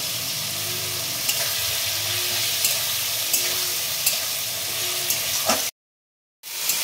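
Poppy seed paste is stirred into ridge gourd and potato frying in a pan, giving a steady close sizzle with soft periodic scrapes of the spoon before a brief silent gap near the end.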